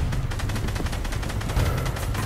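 Rapid, dense gunfire from the video game Fortnite crackles continuously and loudly in a steady burst, with no talk over it.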